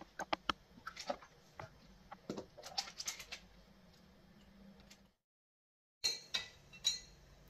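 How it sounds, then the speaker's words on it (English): A spoon stirs Greek yogurt starter into milk in a glass jar, giving quick irregular clinks and taps up close, a brief pause, then a few more clinks. "Give it a good stir."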